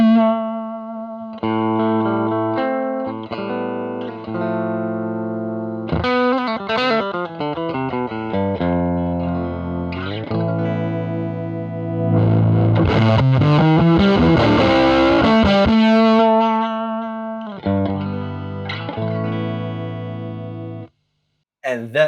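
Electric guitar through a fuzz phase pedal with the guitar volume rolled down, giving a semi-clean tone: a continuous run of picked notes and chords, sustained and slightly distorted, played alone with no talk until it stops at the very end.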